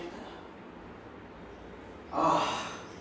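During a yoga stretch, a single deep breath is drawn in through the nose, audible and close, over a quiet room. Near the end it swells into a short, louder rush of air.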